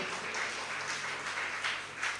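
Audience applause at a church convention in Kottayam, a steady, fairly faint wash of many hands clapping together for about two seconds, without talk.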